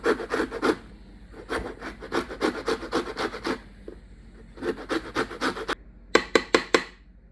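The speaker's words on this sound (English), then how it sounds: "I love zesting lemons and oranges." A lemon being zested on a grater for a small cooking batch: quick, close rasping strokes in rhythmic bursts with short pauses, ending in a few sharp, separate scrapes.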